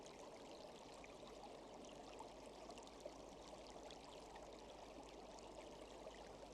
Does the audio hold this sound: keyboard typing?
no